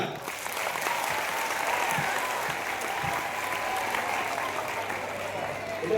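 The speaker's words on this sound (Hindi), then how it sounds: "जोरदार तालियां" Loud, steady applause fills the space as a large audience of children and soldiers at an army cantonment event claps continuously, with faint voices mixed under the clapping.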